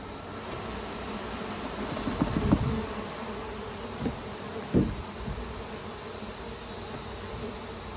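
Honeybees are dumped out of a box in front of a hive, a dense steady buzz filling the air with a few muffled thumps and knocks of the box partway through.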